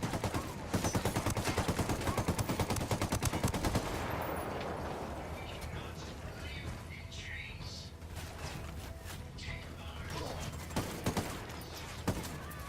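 Automatic weapon fire in Ghost Recon Wildlands, dense rapid bursts up front that thin into scattered shots and impacts, with voices talking throughout.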